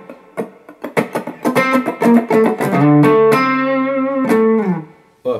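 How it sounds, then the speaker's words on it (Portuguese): An electric guitar played through distortion blended with reverb, a run of quick picked notes that settles into long ringing sustained chords with a lingering tail, loud and close with no voice. "você pode juntar o reverb, por exemplo, com uma distorção, ó"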